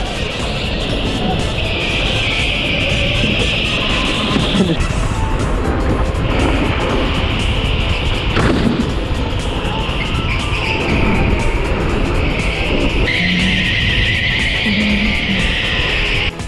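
An electric go-kart drives around an indoor track at Teamsport Birmingham, its motor whining steadily and rising and falling in pitch with speed, loud and close throughout, while a person talks over it.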